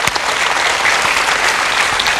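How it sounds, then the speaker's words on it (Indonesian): An audience breaks into loud, dense applause, many hands clapping steadily and close for a couple of seconds with no voices over it. "Ini kita beri tepuk tangan yang meriah."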